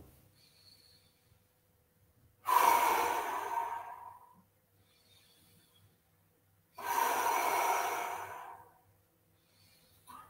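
Two deep, audible breaths taken during a seated yoga twist, each a long airy inhale-exhale lasting about two seconds, close and clear, separated by quiet pauses.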